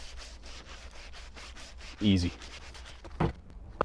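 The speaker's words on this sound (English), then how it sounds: "I'm gonna try just hand sanding it" Steady rubbing and scraping of sandpaper on a wooden prop shotgun, close and continuous, with a brief spoken word and a couple of louder handling knocks.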